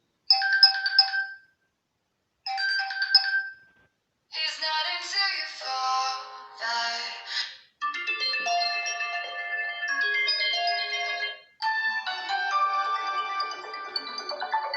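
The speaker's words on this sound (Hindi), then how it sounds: "यहाँ पे फ़ोन रिंगटोन्स में आ जाते हैं। इसको अलाउ करते हैं और देखते हैं जनाब यहाँ कुछ रिंगटोन्स चला के।" Huawei Y7a phone ringtones played through its single loudspeaker: short chiming melodies separated by silences, then longer bright tunes, clear and close with no talking.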